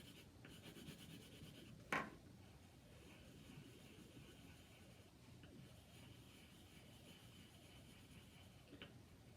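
A pencil scratches and rubs softly across paper while shading a drawing, a faint continuous rasp with one sharper stroke near the start, with no talking.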